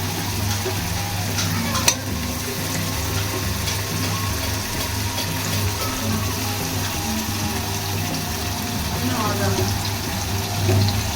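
Drained chicken pieces fry loudly in a pan for dhania chicken, a dense continuous sizzle with stirring clatter and a sharp knock near the start, with a faint voice in the background.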